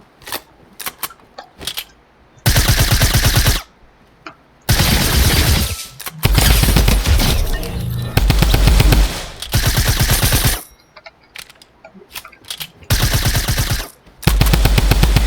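Suppressed SMG and drum gun firing from the hip in Fortnite, rendered as loud rapid automatic bursts of a few seconds each, separated by short quiet gaps with faint clicks and reload noises.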